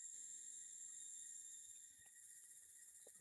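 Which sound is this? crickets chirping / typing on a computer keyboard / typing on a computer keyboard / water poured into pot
crickets chirping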